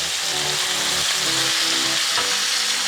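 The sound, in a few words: prawns sizzling in butter with lemon juice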